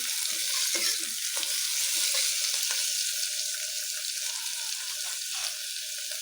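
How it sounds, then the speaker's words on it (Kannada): Brinjal frying in hot oil, a steady dense sizzle that stays close and loud throughout, with faint stirring scrapes now and then and no voices. "ಸ್ವಲ್ಪ ಬದನೆಕಾಯಿನ ಎಣ್ಣೆಲೆ ಫ್ರೈ ಮಾಡ್ಕೊಳ್ಳಿ ತುಂಬ ಚೆನ್ನಾಗಾಗುತ್ತೆ"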